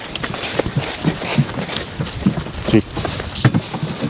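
Hooves of a Suffolk Punch draft horse in driving training clop along in a steady stream of irregular, moderately close footfalls, mixed with faint harness and wagon noise and no talk.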